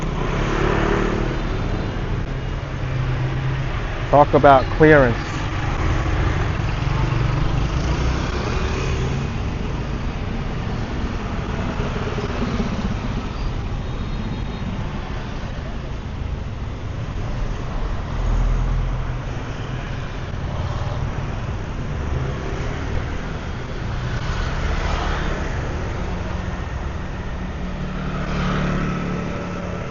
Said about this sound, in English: You're not gonna find a street without a lot of motorbikes here